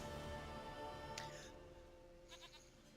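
A goat in the Witcher 3 video game bleats twice, short and fairly faint, over a quiet, steady in-game background hum.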